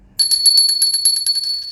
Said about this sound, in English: let's get out our bell and set our tone